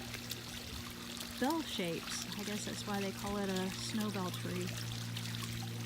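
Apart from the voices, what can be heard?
water flowing from a millstone fountain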